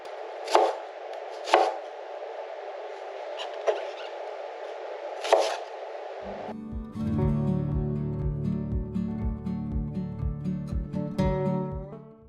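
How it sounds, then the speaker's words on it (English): Sharp knife chops land on a cutting board, a few sparse strikes at first, then a quicker, steady run of chopping. "I'm going to go ahead and get busy chopping the vegetables"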